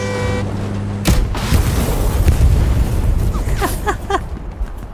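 An enemy halftrack blows up in the World War II shooter Hell Let Loose, a sudden loud explosion followed by a rolling rumble and crackling debris, with faint chirping tones near the end.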